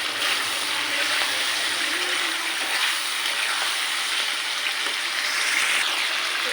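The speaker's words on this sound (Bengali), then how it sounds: "আমার মশলাটা কষানো হয়ে গেছে, তার মাছটা দিয়ে দিব। আমি দিয়ে একটু নেড়ে নেব।" Fish being added to masala and stirred in a hot pan, giving a steady, close, hissing sizzle with occasional spatters throughout.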